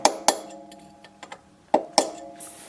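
A small hammer tapping a roll pin into place on a Renault Express front left driveshaft during a CV boot replacement: several sharp metallic clinks, two close together, then lighter taps and two more strikes, close and fairly quiet, no talk.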